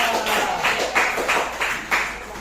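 A classroom of children clapping for a child in a few loose bursts, the rhythmic claps rising and falling in waves, moderately loud and close.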